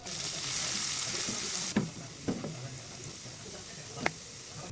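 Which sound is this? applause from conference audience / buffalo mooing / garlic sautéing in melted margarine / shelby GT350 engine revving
garlic sautéing in melted margarine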